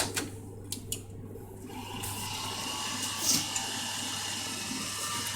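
A steady mechanical whir with a low hum runs throughout from the power supply fan inside a desktop computer case that keeps shutting itself down, with a few faint clicks early on.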